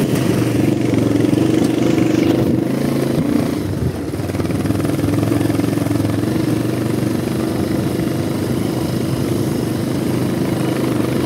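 An off-road motorcycle climbing a steep village trail, its mid-pitched engine droning loud and steady throughout with slight rises in revs and a brief dip, close to the rider.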